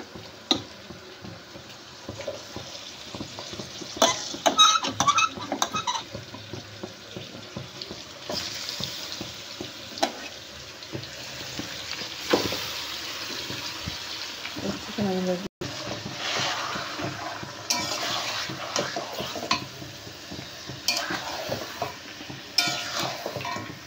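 Chicken pieces go into a pan of cooked onions for a biryani and sizzle and fry steadily. Stirring scrapes and clinks break in now and then while a person talks over the cooking.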